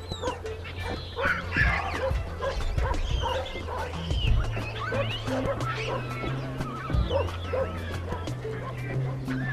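Wild dogs bark and yip in a lively, overlapping chorus with whimpers mixed in, fairly close, over a low rumbling background.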